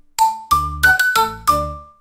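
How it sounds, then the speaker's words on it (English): Sung bell dings from a children's nursery rhyme about a bus, five bright chiming tones in quick succession, clear and close with no voices. "The bell on the bus goes ding,"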